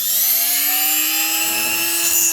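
A McCulloch Pro Mac 10-10 chainsaw engine running at high revs, a loud, steady whine that drifts slightly upward in pitch, close and alone with no talk.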